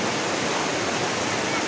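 A river flowing in a steady, dense rush of water noise, loud and close, with no pauses or distinct events.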